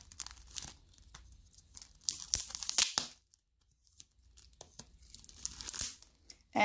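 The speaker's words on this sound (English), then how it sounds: "So now I'll cut away the tape in here." Packing tape being cut and torn away from a sealed package of mint snacks, giving bursts of ripping and crinkling with short quiet gaps, close and fairly loud, with no talking.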